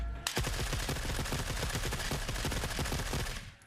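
A full-auto rifle in The Forever Winter fires one unbroken burst of rapid, evenly spaced shots, loud and close, for about three seconds before cutting off.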